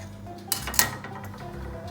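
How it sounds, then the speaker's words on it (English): A knife cuts through a slab of solidified jowar, oat and jaggery chocolate cookie dough on a board, giving two short, sharp contact taps over a quiet room background. "take a knife, we'll cut them into the desired shape we want"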